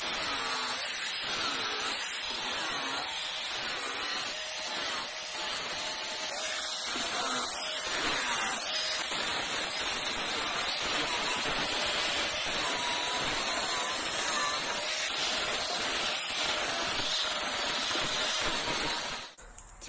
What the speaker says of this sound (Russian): И здесь сейчас возьмем УШМ и сделаем своеобразные рисунки.